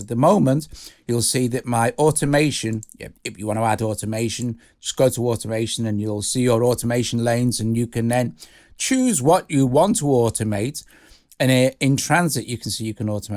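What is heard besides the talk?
No everyday noise stands out behind the speech.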